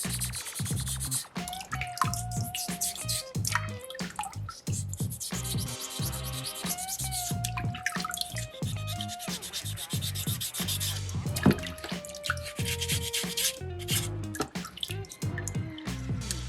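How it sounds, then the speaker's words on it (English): Folded sandpaper rubs and rasps steadily along carved ridges and grooves of a soapstone sea turtle shell, close and continuous, with music playing underneath. "I'm going to fold that sandpaper up and then also sand those ridges that I made"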